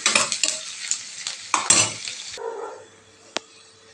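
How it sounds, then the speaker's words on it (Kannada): Onions and green chillies frying in a pan for a village-style tomato gojju, with stirring scrapes and sizzle in bursts, then quieter frying and a single sharp utensil clink near the end. "ಅದಾದಮೇಲೆ ಈರುಳ್ಳಿ ಹಾಕಿ ಚೆನ್ನಾಗಿ ಫ್ರೈ ಆಗ್ತಾ ಇದ್ದಂಗೆ ಒಂದು 3 ಹಸಿಮೆಣಸಿನ್ಕಾಯಿ ಹಾಕ್ಬೋದು ಸಾಕು"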